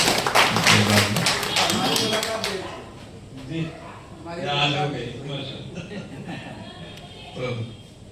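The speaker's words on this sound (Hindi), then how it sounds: "बहुत बहुत एक जोरदार तालियां हो जाए फरहत नूर खान साहब के लिए" Audience at a mushaira poetry gathering: a loud burst of clapping at the start fades out within a few seconds, and a voice talks over it and carries on after it.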